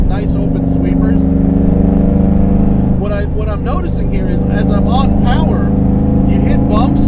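A modified 2002 Camaro SS drives on an open road with a steady, loud engine drone under continuous close talking from inside the car.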